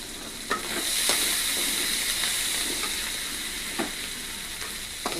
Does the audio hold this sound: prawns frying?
yes